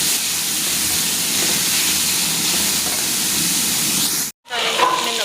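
Chopped onions frying in a pan, giving a loud, steady hiss that breaks off abruptly near the end before faint clatter resumes.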